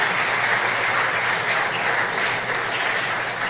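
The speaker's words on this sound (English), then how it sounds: "Another round of applause for Miss Felicia Nunes." Sustained audience applause at a tribute ceremony honoring Belizean patriots, a dense, steady wash of many hands clapping at even loudness throughout, with no talking over it.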